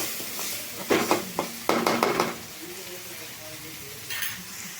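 Tomato and onion sizzle softly in a pan, with a cluster of scraping stirs and clinks near the start. A low steady frying hiss continues afterward, close by.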